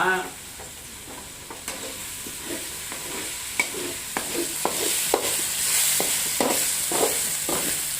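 Chicken curry frying in a pan, stirred with a utensil that makes repeated sharp scrapes and taps over a continuous sizzle, close and fairly loud.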